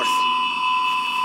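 A video game alarm blares as a steady, loud electronic tone with a sharp high pitch that holds without a break.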